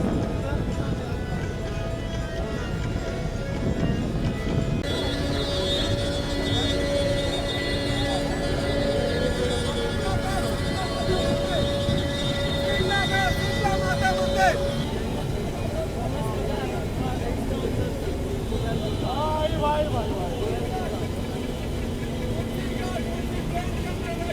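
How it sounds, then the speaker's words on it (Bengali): Launch boats set off from the ghats on the Ganges at Banaras: a continuous engine drone mixes with horn-like tones and a busy crowd, and people talk nearby over the whole scene. "সব লঞ্চ এখন বেরোবার ব্যস্ততা।"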